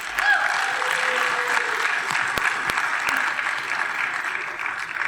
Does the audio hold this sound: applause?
yes